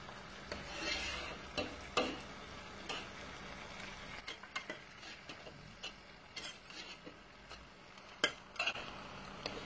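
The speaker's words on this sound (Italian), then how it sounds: "io la mescolo così perché io non la so spadellare" Pasta with swordfish and zucchini stirred in a pan: soft scraping and clinks of a utensil against the pan over a faint sizzle, close and quiet, in irregular strokes.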